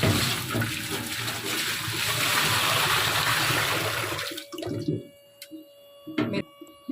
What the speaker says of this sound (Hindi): पानी देखिए मैंने डाल दिया है